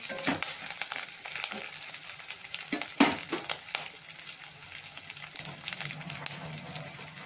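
Sliced onion frying in oil as curry leaves and coriander are tossed in for a traditional Marathi dish: a continuous bright sizzle with spoon scrapes and a sharp clatter of stirring, close and fairly loud, with no talking.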